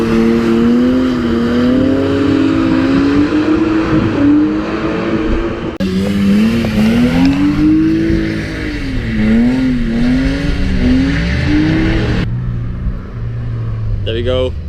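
A drift car engine revs hard and repeatedly during clutch kicks, pitch climbing and dropping in surges with abrupt cuts, loud and close, at a drift day in Midland.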